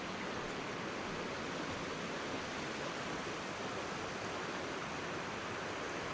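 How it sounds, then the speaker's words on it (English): Shallow river rushing beneath a small swing bridge in New Zealand bush, a steady broadband wash of flowing water that stays constant and close throughout, with no voices. "Even though it's not a very deep river, it's flowing."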